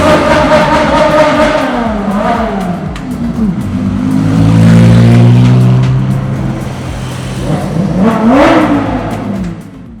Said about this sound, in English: McLarens, Ferraris, Porsches, Lamborghinis, Aston Martins, icons of the past and heroes of today, all sharing the road in one breathtaking stream